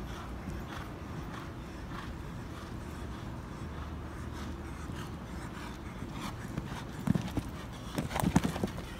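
Horse hooves thud and clatter steadily through show jumping training over verticals, with a few louder hoofbeats near the end and a low background hum.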